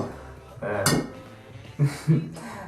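An egg rapped against the edge of a plate while cooking at home: a sharp clink near 0.9 s, then two more knocks and a crunchy crack toward the end, close and clear amid light kitchen noise.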